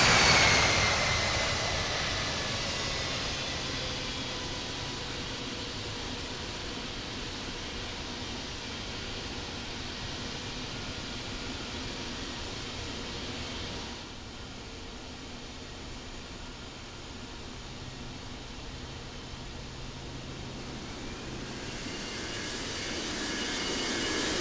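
A heavy jet airliner coming in to land at Salt Lake City airport, a loud, continuous roar that fades slightly mid-pass and swells again toward the end, with no talk.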